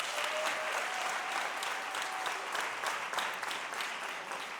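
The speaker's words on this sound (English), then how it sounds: "Let's give a round of applause for him." Audience applause fills a school district's State of the Schools address, a steady, dense patter of many hands clapping throughout, somewhat distant and moderately quiet.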